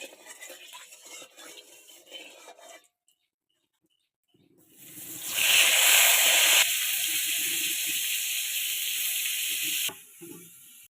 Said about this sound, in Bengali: আমি এবার বেগুন ভেজে নেবো, দিয়ে দেবো তেল,